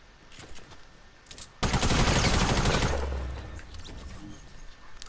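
Bursts of gunfire in the Fortnite video game, likely from pistols: sparse shots, then a loud, dense volley of rapid fire that fades into quieter scattered shots, with no voices.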